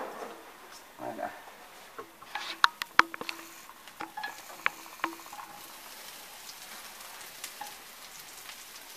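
Croutons browning in a hot pan for a country salad with poultry gizzards: a soft, steady sizzle with scattered sharp clicks and scrapes of a utensil stirring against the pan, under quiet background talk.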